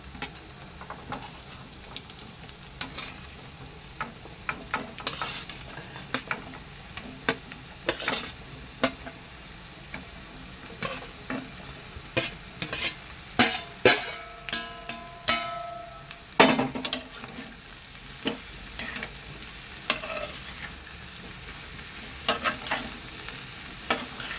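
Softened onion frying in a pan with turmeric for a mixed vegetable dish of red pumpkin, okra and snake gourd, stirred with repeated scraping clinks and taps over a steady low sizzle, close and alone.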